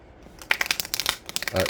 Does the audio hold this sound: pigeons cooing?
no